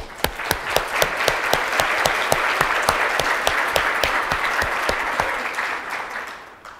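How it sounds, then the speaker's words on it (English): Applause from a conference audience at a plenary session, a steady wash of many hands clapping with a few sharp, distinct claps standing out, sustained for several seconds before tapering off. "I want to give a round of applause to everyone in the room that worked their butt off."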